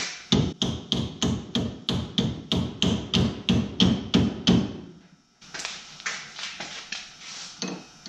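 A chisel struck with a hammer during a VW Beetle sway bar installation, about fifteen evenly spaced metallic blows ringing out loudly and close, then a short pause followed by a run of quicker, lighter taps.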